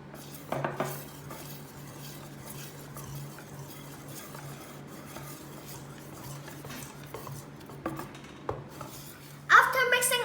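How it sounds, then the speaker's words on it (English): Glutinous rice dough stirred with cooking oil in a pan gives a steady soft scraping and churning, with occasional sharper clinks of utensil against the pan, close and fairly quiet. "add 18 grams of cooking oil and keep stirring"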